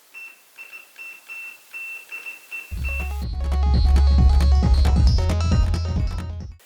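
A homemade 210 kHz Morse code radio transmitter sends a short run of evenly spaced high beeps over hiss, then loud music with deep bass takes over and buries them.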